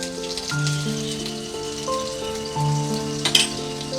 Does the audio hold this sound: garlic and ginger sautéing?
yes